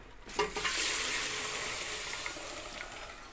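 Lukewarm water poured into a pan of toasted flour roux for a creamy corn soup, bursting into a loud, steady sizzle and bubbling that holds close up after the first splash.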